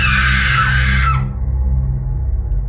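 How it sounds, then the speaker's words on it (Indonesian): A woman's scream, part of a horror story, rings loud and high for about a second, wavering and falling away, then cuts off, leaving a low steady hum underneath. "Saya mendengar suara perempuan menjerit-jerit."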